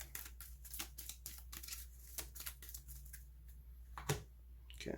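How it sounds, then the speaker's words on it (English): A deck of game cards for a superhero deck-building board game being shuffled in a run of quick, crisp riffling bursts, close and fairly quiet, with a sharper snap near the end and no talking. "Okay, so I have to shuffle player 1's deck."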